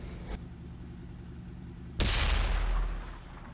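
An artillery shell bursts in World of Tanks on console: a sudden loud boom with a deep rumbling tail that slowly fades, following a steady low engine hum.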